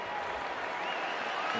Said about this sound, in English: Nice round of applause from the crowd here in Austin